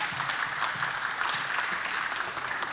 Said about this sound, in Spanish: un aplauso y démosle con todo